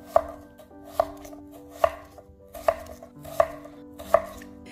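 A knife slices radish into thin 4 mm pieces on a cutting board, with seven crisp, evenly spaced chops about a second apart, close up and clear over a quiet background.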